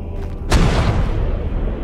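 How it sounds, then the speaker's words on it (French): Ship cannons fire in the video game Ark, a loud single boom with a rumbling tail that hangs on for over a second after the blast. "On va balancer les canons."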